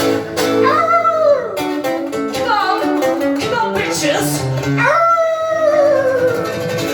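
Human voices imitate dogs, rising into drawn-out howls with yips and barks, loud and close in a lively rock café crowd, several voices overlapping in repeated swooping calls.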